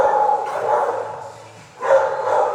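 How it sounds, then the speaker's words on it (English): Rocket, a little rescue dog at a dog pound, gives two short, close barks separated by a brief pause. "You've got little Rocket who might bark at me."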